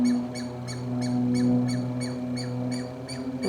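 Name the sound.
bird distress call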